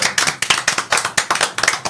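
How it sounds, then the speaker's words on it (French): Close, loud clapping from a small audience at a live cover performance, a few distinct hands striking in a quick, uneven pattern of sharp bursts. "on peut l'applaudir"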